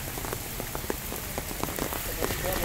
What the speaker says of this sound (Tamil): மழை பெஞ்ச தண்ணி ஓரமாக அப்படியே வருது